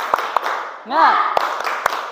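A classroom group performs a rhythmic clapping chant, a few sharp separate claps around a sung or shouted vocal phrase from the class, fairly close and loud.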